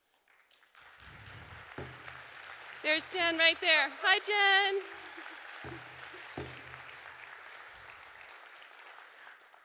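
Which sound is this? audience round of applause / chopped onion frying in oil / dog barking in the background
audience round of applause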